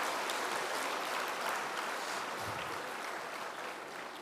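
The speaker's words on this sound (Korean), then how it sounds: "다시 한번 큰 박수로" Audience applause at an evening summer camp gathering, a dense, steady wash of clapping that fills the whole stretch and fades slightly toward the end.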